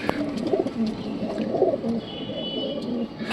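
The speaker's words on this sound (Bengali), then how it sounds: "আর এইখানে আছে আমাদের নাপ্তা পায়রাটা দেখো খবের ভেতরে আছে" A pet pigeon in a cage at home coos in soft, low, repeated phrases, close and fairly quiet, with no talking over it.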